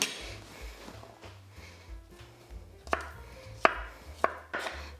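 Knife chopping garlic on a cutting board, sharp irregular knocks growing louder toward the end, with soft background music and no talking.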